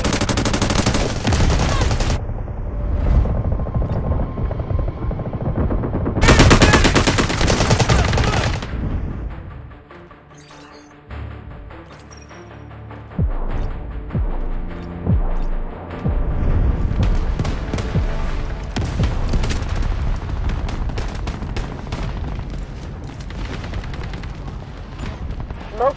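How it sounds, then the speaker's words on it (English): Delta Force video game combat during an artillery barrage: dense gunfire and machine-gun bursts with booming explosions, loud and continuous, briefly dropping off midway before the heavy firing resumes. "Roger that, artillery barrage incoming."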